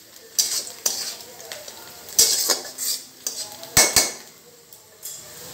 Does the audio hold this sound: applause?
no